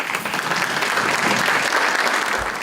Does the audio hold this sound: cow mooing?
no